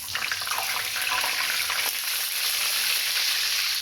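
A breaded chicken parmesan cutlet frying in oil right after being flipped, crackling in a loud, dense, continuous sizzle with no voices.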